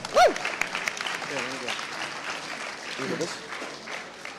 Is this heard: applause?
yes